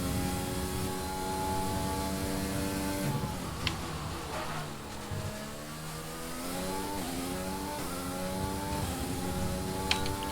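A Formula 1 car on a qualifying lap in the F1 2020 video game, its engine climbing and dropping through gear changes with a high harmonic whine, steady and prominent throughout, no talking.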